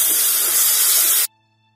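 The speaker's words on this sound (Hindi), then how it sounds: "टमाटर को भी अच्छे से भून लेंगे" Chopped tomato fries with onions in a pan, giving a loud, steady hiss of sizzling for just over a second before it cuts off abruptly into near silence.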